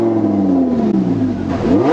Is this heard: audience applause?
no